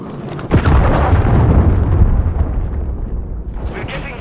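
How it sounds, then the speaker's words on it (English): A cruise missile explodes in Call of Duty Modern Warfare 2 multiplayer, a loud deep blast that starts half a second in and keeps rumbling for several seconds before easing off, then faint hiss and debris at the end. "Hostile cruise missile launched."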